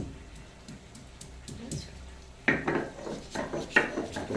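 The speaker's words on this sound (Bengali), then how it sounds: "এটা এখন মাটনের মশলা বাটা চলছে" Mutton spices ground by hand on a traditional stone slab with a stone pestle, scraping and knocking strokes that grow louder partway through, heard close under people talking.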